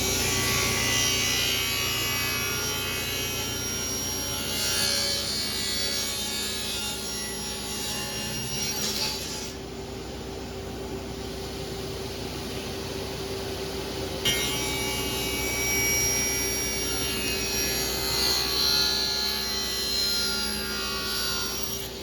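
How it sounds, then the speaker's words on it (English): Steady, continuous sawing through pine wood, trimming the ends of a cutting board, with a rough, rasping texture and a faint mechanical hum underneath, lasting throughout without speech. "now I'm going to cut off the sacrificial pine on both sides"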